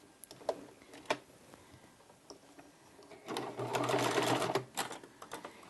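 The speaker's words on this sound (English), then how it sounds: "we're going to sew a top stitch around the very top" A sewing machine top stitches along the upper edge of a drawstring backpack at about a quarter-inch seam allowance. A few short isolated ticks come first, then a quiet steady run of stitching lasts over a second, trailing into light clicks, with no talk.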